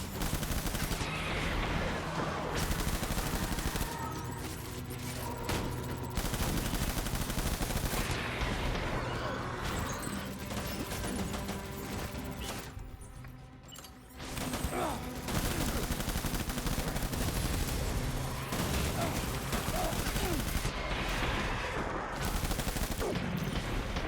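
Sustained automatic gunfire in Death Stranding rattles in dense, loud bursts for over twenty seconds, pausing briefly partway through before the firing resumes with the same intensity.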